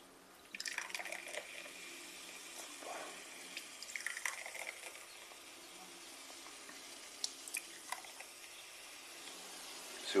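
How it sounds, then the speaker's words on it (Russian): Cola poured from a freshly opened bottle into three glasses, with a steady fizzing, bubbling hiss and small splashy crackles of carbonation rising and fading over several seconds, fairly quiet and close. "Наливаю в 3 бокальчика колу"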